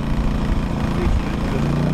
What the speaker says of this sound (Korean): 리코일 스타터 레버를 당겨줍니다. 시동이 걸리면